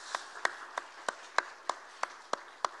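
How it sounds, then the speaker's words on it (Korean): Church congregation at a Friday prayer meeting giving applause to welcome a missionary, heard as a sparse, faint, regular series of about nine single claps, evenly spaced and distant. "자, 우리 박수로 좀 격려하겠습니다."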